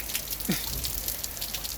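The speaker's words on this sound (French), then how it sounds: "Regardez, il pleut." Rain falls at an outdoor gathering, a steady close hiss of drops with a brief low patter near the start, and no talking in this moment.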